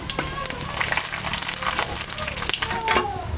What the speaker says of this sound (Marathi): तेल गरम झालेले आहे ह्यामध्ये आपण जिरं मोरी आणि तीळ घालूया